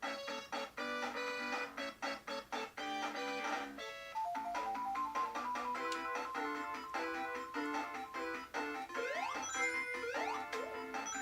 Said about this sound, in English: here's what Sonic 1 is supposed to sound like